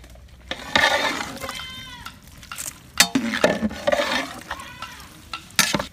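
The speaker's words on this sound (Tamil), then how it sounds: "நம்ம கழுவி வச்சிருக்க பீஃப் இறைச்சியை இது கூட போடுவோம்." Small beef pieces frying and being stirred in a pot for a Kerala-style tapioca biryani, with a steady sizzle and scraping stirs coming in bursts close up.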